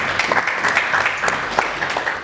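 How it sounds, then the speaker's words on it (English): Enthusiastic applause from dinner reception guests, a close, dense patter of many hands with a few sharper individual claps standing out, brief and lively. "Big round of applause for him."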